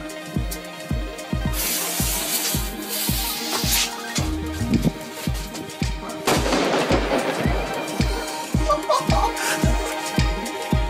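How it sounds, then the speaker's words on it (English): Aerial assault fireworks at a Crankworx Europe mountain bike event, a rapid, steady barrage of loud booming bursts with crackling and hissing trails, continuous and fairly close. "They are a bit like kids, you know, because they always like playing with fireworks."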